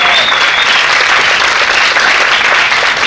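Audience applause greets a Microsoft lawyer specializing in corruption and compliance at an AI and economic growth forum, loud dense clapping filling the whole stretch without voices.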